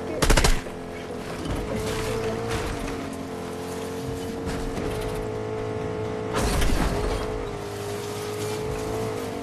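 Gunfire bursts in a Fortnite match, with sharp shots at the start and a louder volley near the middle over a steady engine-like drone and in-game noise, no speech.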